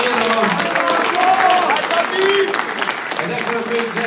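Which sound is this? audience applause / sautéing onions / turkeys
audience applause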